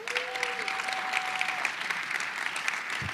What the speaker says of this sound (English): You guys don't have to clap at every single thing.